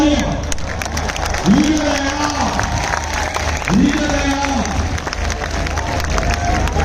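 A large crowd at a political rally at Minar-e-Pakistan in Lahore claps and cheers loudly, while a voice talks over the noise throughout.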